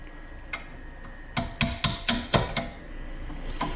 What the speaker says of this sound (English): So right now I'm just taking a sharp chisel and just chipping away some of the crustiness here and there.